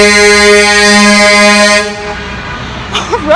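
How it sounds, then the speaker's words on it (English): A truck's air horn blares in one long, loud, steady honk on a New York street, close by, then cuts off, leaving street noise and a brief voice. "So, you won't get me my bagel, but you keep on honking?"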